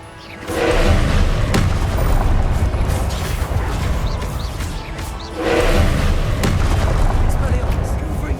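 Confringo fire spell blasts in Hogwarts Legacy, two heavy booming bursts about five seconds apart, each followed by a long rumbling roar, with a voice casting a spell name between the blasts.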